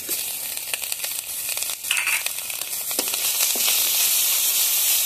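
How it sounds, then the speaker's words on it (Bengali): Ginger-garlic paste with cinnamon and cardamom sizzles loudly in hot oil in a pan, the hiss growing stronger, with a few stirring scrapes along the way. "দিয়ে সবকিছু ভালোভাবে ভেজে নেব।"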